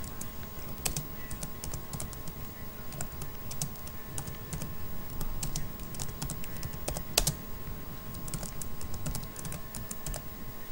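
Typing on a computer keyboard runs steadily throughout, a dense stream of close key clicks over a constant low background hum, with a few louder keystrokes standing out.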